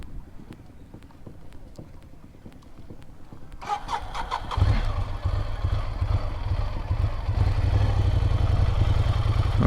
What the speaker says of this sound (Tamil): இருங்க வண்டி ஆஃப் பண்ணிடலாம்.